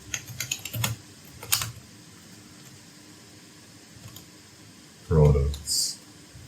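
Short bursts of quick key clicks on a computer keyboard as a search term goes into a search bar, close and moderately loud at the start, then a quiet stretch before a voice briefly speaks near the end.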